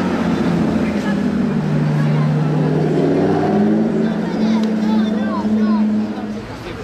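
A Chevrolet sports car engine revs hard on a Monaco street, a loud, sustained roar with rising and falling pitch sweeps, while people talk nearby.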